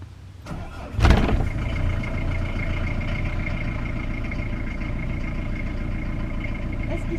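A vehicle engine cranks and catches with a sharp burst, then settles into a steady, close idle that hums on for several seconds.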